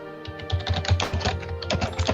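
Rapid, loud clacking on a computer keyboard close to the microphone, an uneven burst of keystrokes with no speech over it.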